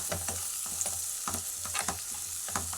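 Sliced onions, ginger-garlic paste, coriander powder and green chillies fry in oil for a mushroom tomato curry, a steady close sizzle broken by repeated rhythmic stirring scrapes, with no talking.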